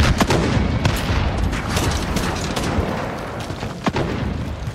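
Grenade blast and gunfire in Modern Warfare multiplayer: a dense, continuous wall of booms and rattling shots with dull explosions thudding under it, loud and steady throughout.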